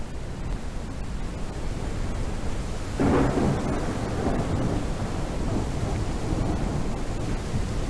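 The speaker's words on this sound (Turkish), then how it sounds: "Ha, hava kapattı. Yağmur yağıyor." Steady rain hisses throughout as thunder rumbles in partway, a broad low roll that swells and lingers beneath the downpour, in the video game Ranch Simulator.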